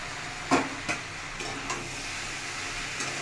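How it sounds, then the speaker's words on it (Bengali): Fried potatoes and posto for thor posto sizzle and hiss in a kadai with a constant frying crackle. A few sharp clinks of stirring or tossing come near the start. "আলুটা ভাজা ভাজা হওয়ার পরে ফোড়টা কড়াইতে তুলে দিলাম।"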